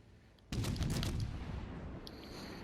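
Naval guns fire a broadside of armor-piercing shells in World of Warships: Legends, a sharp loud burst of several overlapping booms followed by a rumbling tail that fades slowly.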